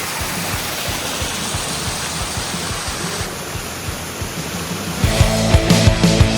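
Water from mountain slopes in Serbia drains into a deep cave, producing a loud, steady rushing wash close by, with faint rhythmic pulses beneath and a fuller surge toward the end.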